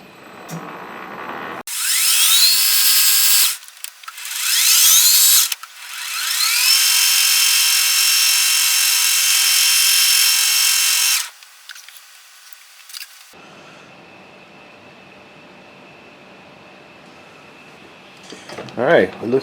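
A metal lathe turning down a piece of steel drill rod to make a tap, with loud, high, sustained cutting whine in several long passes separated by brief stops, then a quieter steady machine hum.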